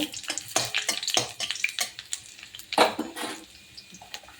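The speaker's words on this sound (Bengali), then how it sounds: "এটা এবার আমি ভাজা ভাজা একটু করব" Dried red chillies and garlic fry in a pan, with a crackling, spattering sizzle and uneven stirring scrapes close by, fading toward the end, with no one speaking.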